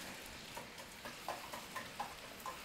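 Sausages fry in a pan after potatoes, giving a faint, even sizzle with soft rhythmic taps and clicks, likely from stirring, repeating at intervals.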